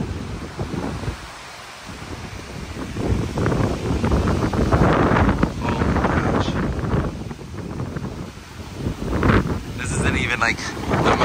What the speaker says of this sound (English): That's some gnarly, gnarly wind.